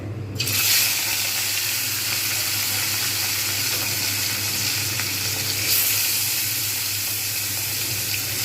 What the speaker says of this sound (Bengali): ভেজে নেবো মাছগুলো